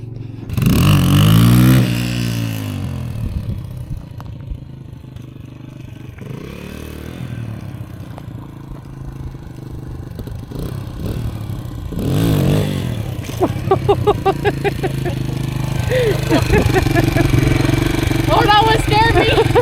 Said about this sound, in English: Kids out there running a dirt bike.